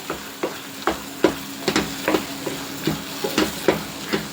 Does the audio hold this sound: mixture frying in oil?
yes